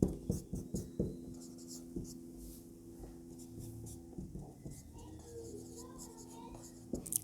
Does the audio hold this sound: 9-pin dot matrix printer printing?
no